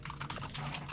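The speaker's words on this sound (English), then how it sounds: "my keyboard is really loud" A loud computer keyboard being typed on, with rapid, close, clattering keystrokes running steadily through a brief moment.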